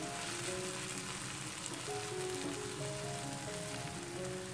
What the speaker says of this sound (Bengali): সব উপাদানগুলোকে আমি আরও দুই মিনিট এটাকে ভেজে নিয়েছি